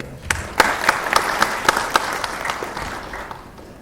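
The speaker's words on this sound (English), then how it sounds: "I expected a better round of applause" Audience applause at the National Cyber Security Conference 2016, starting with distinct sharp claps that build into a sparse, moderate round before thinning out toward the end.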